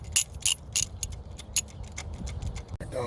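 A ratchet clicks in quick short runs while tightening a new spark plug on a 2005 Chevy Malibu with a 2.2 Ecotec engine, crisp close metallic ticks with a brief thud near the end.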